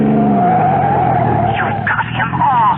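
A car's tires squeal loudly in a long, sliding skid as it is forced off the road, the pitch bending downward while the engine strains, all at close range in a radio drama.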